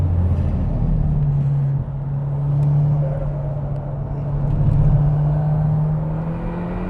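A car on a hot lap around a race track on Goodyear Eagle F1 Supersport tyres, fitted with a limited slip differential, its engine droning steadily and close with rising pitch under acceleration and no talk.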